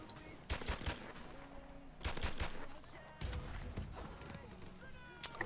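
Gunfire in the video game Modern Warfare Remastered: several loud bursts of shots and sharp single cracks spread across the clip, with game background sound between them and no speech.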